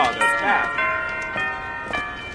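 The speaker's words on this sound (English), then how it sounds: "They fixed the bells." Church bells ring with long, overlapping metallic tones that strike and decay several times, under a voice speaking.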